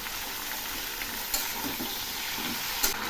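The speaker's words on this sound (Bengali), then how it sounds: "সবজিগুলো আবার একটু নেড়ে দিচ্ছি" Vegetables including flat beans, eggplant and potato fry over low heat in a pan with salt and turmeric, giving a constant soft sizzle with occasional spatula scrapes and two sharper clinks.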